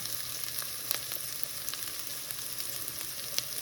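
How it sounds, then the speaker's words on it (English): Onions sautéing in a pan hiss in a steady, moderately loud sizzle with scattered small crackles and a couple of light stirring taps, with no one talking. "now that our onions are getting a little bit translucent, I'm not trying to caramelize them. I'm just trying to cook them a little bit."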